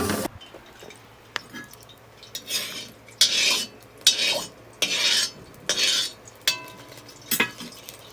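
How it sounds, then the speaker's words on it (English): Dishes are washed at a new outdoor sink during open-fire cooking: intermittent bursts of running water and splashing, with occasional clinks of cutlery and pots between quieter pauses, fairly close, no talking. "I'm over here at the new sink, washing my dishes as I go."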